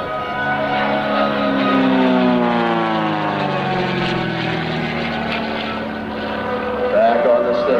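F-260 Warrior aerobatic plane with a 260-horsepower engine diving and rolling at an air show: a loud, continuous propeller drone whose pitch sweeps up and down as it maneuvers, with a voice faintly underneath.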